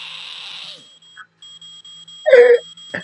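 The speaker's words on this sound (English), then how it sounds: "or a smoke alarm goes off" A shrill smoke alarm beeps in a loud sustained tone, then cuts out, followed by a brief voice exclamation.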